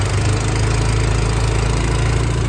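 An air compressor runs on a 2012 Ford F-450 crane service utility truck with a Liftmoore 4000X crane, giving a steady, close mechanical drone with a low throb that holds evenly throughout.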